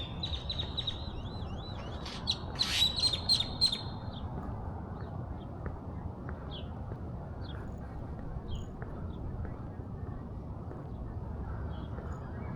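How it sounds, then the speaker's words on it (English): An agitated bird squawks and calls in a short burst of sharp, repeated chirps early on, over a steady outdoor hum while walking through a small Texas town, then the street ambience carries on quietly. "that bird's pissed"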